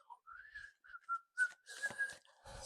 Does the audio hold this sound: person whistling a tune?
yes